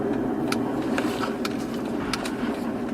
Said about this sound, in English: It literally sounds like a stock exhaust now that I'm rolling down this hill in 6th gear.